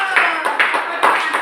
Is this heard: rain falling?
no